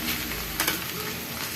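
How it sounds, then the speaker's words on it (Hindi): Boiled potatoes being stirred with spices in a hot pan give off a steady, dense sizzle, with a brief louder scrape and rustle as the mixture is turned, close and continuous with no talking. "अब हम इसको अच्छे से हिला करके मसाले के साथ मिक्स कर देंगे अच्छे से।"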